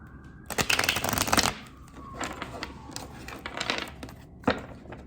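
Tarot deck being shuffled by hand, a close riffling burst followed by softer card rustles and a final sharp snap, with no talking.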